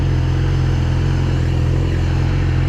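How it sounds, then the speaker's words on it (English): A passing car's rough, struggling engine drones loudly and steadily at low pitch throughout, close by at night in town, with no voices. "That car sounds like it's gonna die."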